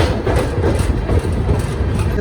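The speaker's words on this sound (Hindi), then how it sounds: "मथुरा जंक्शन से डिपार्चर होता हुआ" Vaishno Devi Katra–Jabalpur SF Express pulling out of Mathura Junction, a loud, close, rumbling low-frequency rolling roar with uneven rattling texture, continuous throughout.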